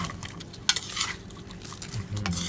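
Salmon larb being tossed and mixed in a bowl, soft wet stirring with clinks of a utensil against the dish and a faint sizzle in the background.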